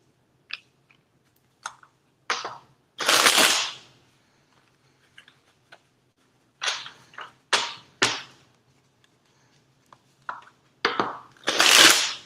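Tarot cards shuffled by hand in short bursts of crisp riffling and flicking, with louder cascades around the middle and at the end, quiet pauses between, no talk.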